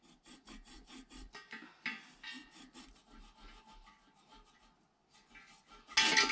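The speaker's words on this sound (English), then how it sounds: "A hacksaw is another amazing tool." A hacksaw cuts with quiet, rhythmic back-and-forth rasping strokes, fairly close but faint, ending in a brief louder scrape.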